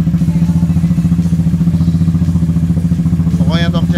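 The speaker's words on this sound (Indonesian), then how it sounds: "kondisi motor Benelli sudah menyala aman, langsung plug and play" A Benelli motorcycle engine fitted with a Honda Tiger piston runs at a steady idle, close and loud with an even, pulsing low throb, and a brief voice is heard near the end.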